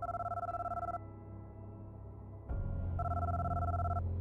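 An outgoing phone call ringing tone: two-tone electronic rings repeat in pulses, with a silent gap between bursts and a low hum underneath, heard alone without voices.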